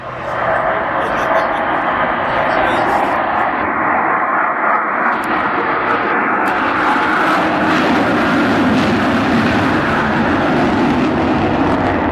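The Avro Vulcan XH558 roars as a continuous, loud wall of sound while its four Rolls-Royce Bristol Olympus 202 engines power up without reheat at the Goodwood Festival of Speed, and a commentator talks over it.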